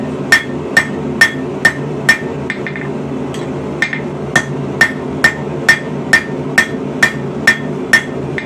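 Regular hammer blows ring out on hot rebar at an anvil, flattening a forged snail scroll into a jelly roll, about twenty sharp metallic strikes at a steady pace over a low background hum.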